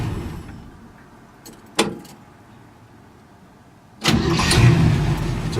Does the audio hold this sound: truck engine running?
yes